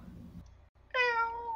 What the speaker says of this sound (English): Now next is baby cat.